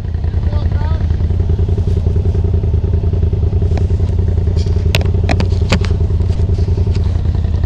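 The engine of a side-by-side UTV running with no air filter drones loudly and steadily up close, with occasional clatter and crackle and talk over the top.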